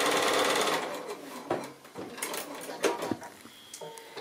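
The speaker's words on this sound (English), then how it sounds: "stitch again half an inch away" A sewing machine runs a quilting seam in one steady burst, then stops and gives way to clicks, handling noises and small fabric rustles.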